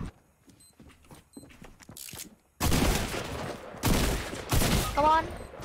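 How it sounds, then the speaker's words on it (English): Gunfire in Fortnite: quiet taps and faint game sounds at first, then a sudden loud burst of shots from about second 2.6, with two more heavy bursts near seconds 4 and 4.7 and a brief chirp at the end. "I shot him for 50 something with a pistol"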